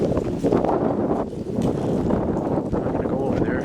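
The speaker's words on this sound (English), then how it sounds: "Windy." Gusty wind buffets the microphone outdoors at the abandoned Dixie Square Mall, a loud rough rush that swells and dips throughout.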